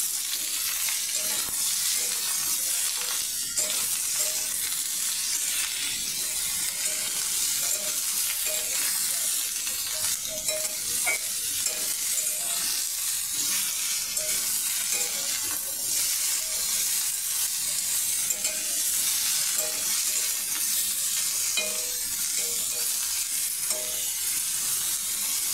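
Sliced ridge gourd and potatoes sizzle loudly and evenly in a hot pan while being stirred, with a constant bright frying hiss and soft scraping strokes, close up and with no voices.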